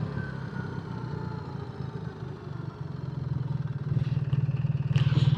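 A 2025 BMW R 1300 GS Adventure with automated shift transmission runs along the road, its engine a low steady drone that grows louder and more throbbing near the end as it shifts and pulls.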